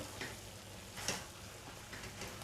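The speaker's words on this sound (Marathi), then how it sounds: "हे आता व्यवस्थित असं परतून घ्यायचं" Chopped banana flower sautés in a pan, giving a soft, steady sizzle with a few faint stirring taps, quiet and continuous.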